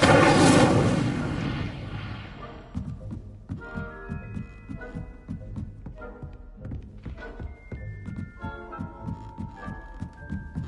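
Incendio fire spell in Hogwarts Legacy bursts with a loud whooshing blast that quickly fades, followed by a run of soft thumping hits and faint chiming tones.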